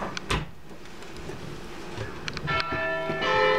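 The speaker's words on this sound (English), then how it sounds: "Church bells." Church bells ring out at a distance in Copenhagen, a few clear tolls with lingering overtones over a quiet outdoor courtyard background.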